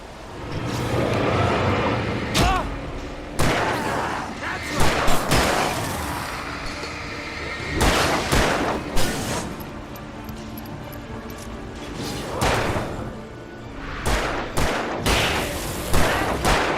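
Gunfire in Alan Wake Remastered, loud sharp shots in irregular bursts with booming impacts and game ambience, voices shouting in between.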